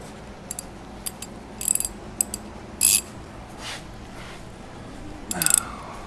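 A 1/2 inch drive ratchet with an extension clicks in short bursts of rapid pawl ticks, close and fairly loud, while working on a fastener of an abandoned 1964 International Harvester Scout.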